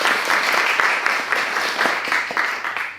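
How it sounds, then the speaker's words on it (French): A studio audience on a TV news set claps in steady, dense applause that holds for the whole stretch with no voices over it. "Applaudissez-le, merci."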